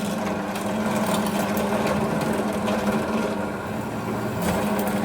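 Drill press boring straight through a replacement motor mount part for a 1946 Boxford lathe, a steady droning whir with a low hum running evenly throughout, close and fairly loud.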